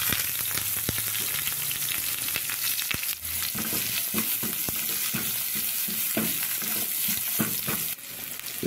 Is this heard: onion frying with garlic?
yes